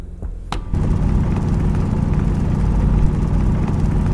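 Drilling in the Stationeers survival game on Venus: a steady, loud mechanical drone with a low rumbling grind starts after a brief click and holds continuously to the end, with no talk over it.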